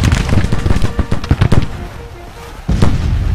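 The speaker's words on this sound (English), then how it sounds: "Now we've got the colored troops as well as the standard troops opening fire on the enemy." Ragged musket volleys and scattered rifle shots crack in bursts from Civil War infantry, including colored troops, in the Grand Tactician battle for Florida, with several close reports clustered early and another burst near the end.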